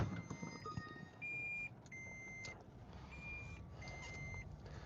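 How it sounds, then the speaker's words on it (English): A car backs up, and several faint electronic beeps at differing pitches sound over a low engine hum and background noise, with one longer sustained tone. Nobody speaks. "I'll back up the car"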